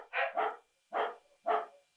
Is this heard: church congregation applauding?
no